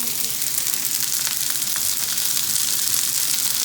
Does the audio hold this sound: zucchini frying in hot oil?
yes